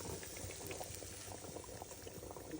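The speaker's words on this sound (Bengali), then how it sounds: "আমি এটা মাংসতে ঢেলে দিব" Liquid is poured into beef simmering in a pot, producing a steady close bubbling and gurgling of boiling liquid throughout.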